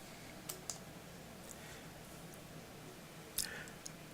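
Scattered keystrokes and clicks from a computer keyboard while tax return details are entered, quiet and close, with a louder cluster of taps near the end over a steady low room hum.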